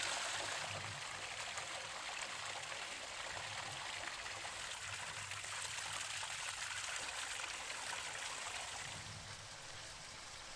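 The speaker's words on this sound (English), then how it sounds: "He's got like water, clean potable water in a fountain." A fountain runs with clean drinking water, giving a steady, even rush and trickle that carries on without a break and eases slightly toward the end.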